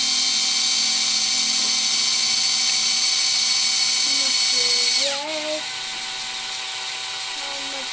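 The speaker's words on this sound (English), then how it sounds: "we're gonna drill a hole into the middle of this" A power drill bores a hole into scrap metal, a steady high whine running loud for about five seconds before dropping in pitch and easing off as the bit slows.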